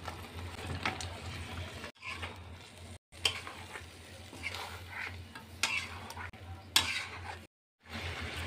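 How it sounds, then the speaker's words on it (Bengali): Fried potatoes and meat stirred in a pan of spiced sour yogurt masala, with a steady close-up sizzle and scraping spoon strokes that pause briefly a few times. "এখন দেব আমি ভাজা আলু এবং মাংস দিয়ে আমি কষিয়ে নেব।"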